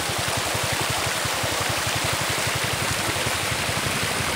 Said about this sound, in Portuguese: Este som da água, que é muito mais bonito do que qualquer voz